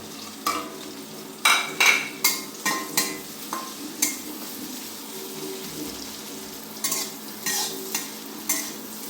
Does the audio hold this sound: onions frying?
yes